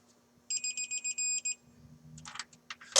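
A digital torque wrench, used on a Saab head gasket swap, gives a quick run of about seven sharp, high electronic beeps. Mechanical clicks and rattles from the work follow.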